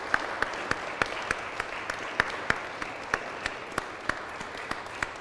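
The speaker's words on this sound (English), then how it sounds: "I would like to just give Iain, before he closes, a round of applause" Light, sparse audience applause for Iain after a Lent talk, individual claps ringing out fairly distinctly over a soft room background, a small group clapping at a steady pace.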